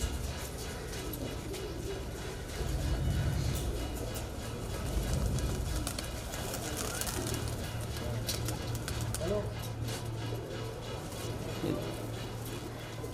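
Pigeons in a loft, high-flying kalpare birds, murmuring coos and soft wing and foot rustles under steady ambient noise, with people talking in Hindi over them.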